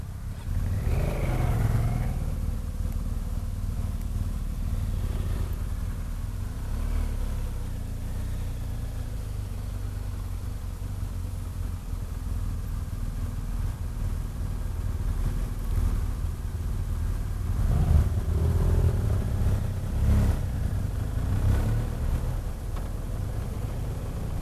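Big adventure motorcycles, BMW GS and GSA, KTMs, Honda Africa Twins plus a scooter, idle and rev as a group sets off on a gravel ride, a steady low engine rumble with occasional swells.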